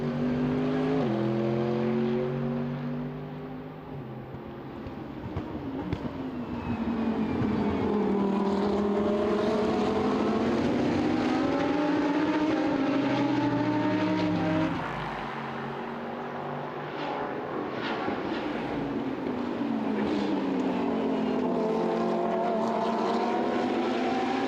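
A Lamborghini Huracan GTC race car lapping the Hungaroring circuit, its engine roaring loud and close, revving up through gears with rising and falling pitch sweeps and a brief easing off for a corner.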